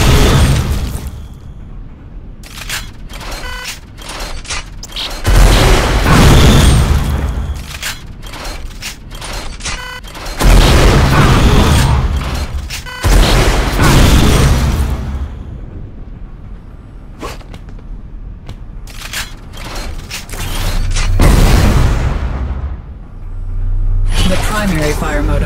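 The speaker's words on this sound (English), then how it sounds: "Hold the secondary fire mode to load up to 3 rockets at a time and fire them on release." A rocket launcher in Unreal Tournament 4 fires repeatedly, with loud booming rocket blasts and mechanical clunks of loading that recur in bursts, while a voice talks over the gunfire throughout.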